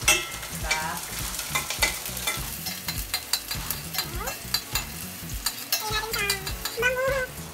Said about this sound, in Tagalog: Igisahin lang natin syempre ang ating bawang at sibuyas.